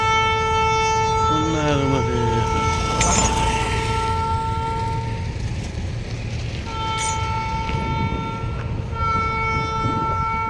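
Railway train passing near Ankleshwar, a steady loud rumble of wheels on track with long sustained horn tones throughout, continuous and close.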